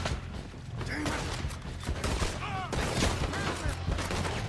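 Gunfire in the video game Red Dead Redemption 2 during a jailbreak at Fort Wallace, dense bursts of shots with mechanical clatter running continuously and loud throughout, with no voices.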